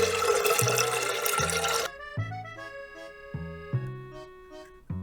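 Room-temperature water pours steadily from a bottle for a couple of seconds as a rushing splash, then stops, leaving a sequence of clear plucked musical notes.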